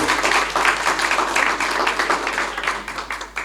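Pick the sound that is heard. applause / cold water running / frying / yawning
applause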